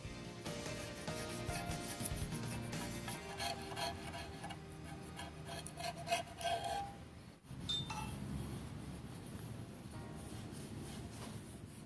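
Old gasket material scraped off a timing chain cover with a hand tool, a continuous gritty rasping and rubbing with rhythmic strokes, briefly interrupted midway, close but fairly quiet.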